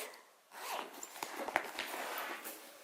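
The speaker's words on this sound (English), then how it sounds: "I think there are 2 pockets also back here, 2 zippered pockets" A zipper on a Tokidoki x Jujube diaper bag pocket is pulled open close up, a faint scratchy rasp lasting a couple of seconds with small clicks from handling.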